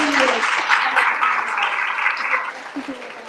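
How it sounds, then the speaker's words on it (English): Audience at a live anniversary event for an enterprise organization claps, a dense mid-level patter of applause running throughout the short stretch, with faint voices and a brief chuckle mixed in. "So perhaps we could give a bit of a clap for that."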